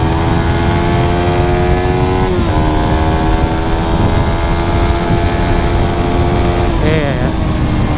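A motorcycle engine runs steadily close by during a test ride, with a couple of brief shifts in pitch, while people talk over it.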